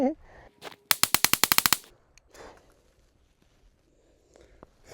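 A .22 LR rifle fires a rapid burst of about ten sharp shots in under a second, loud and close, followed by quieter outdoor rustling.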